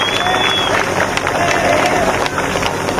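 A crowd at a political rally applauds and cheers, a continuous wash of clapping and murmuring voices with a faint whistle, steady and moderately loud throughout.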